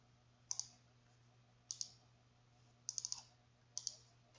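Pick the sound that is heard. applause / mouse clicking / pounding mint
mouse clicking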